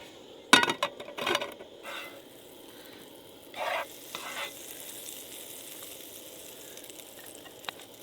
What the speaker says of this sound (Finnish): niitä paistellaan voissa hetki ja sitten lisätään noin muita aineksia